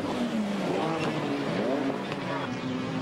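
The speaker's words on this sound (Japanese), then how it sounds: "中段グループでは第3ポルシェとサードスープラがヒート。" Porsche and Supra GT race cars from the 1996 All Japan GT Championship battle at Fuji, their engines droning steadily with shifting pitch as they run close together, under commentary.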